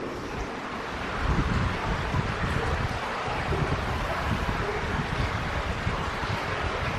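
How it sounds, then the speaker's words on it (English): Wind rushes through an old poorhouse tunnel as a steady, rumbling gust that swells slightly after the first second and holds for the rest, with no voices. "Are you making the wind blow through here?"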